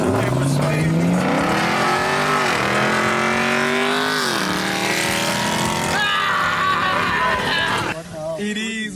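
A Dodge Charger Scat Pack racing, its engine roaring loudly and revving up through rising gear pulls, close and sustained, with voices underneath and a sudden drop near the end.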